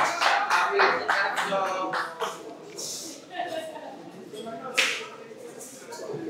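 Scattered, uneven clapping at an album release event, a few sharp claps at a time rather than a full ovation, mixed with voices talking and a little laughter nearby.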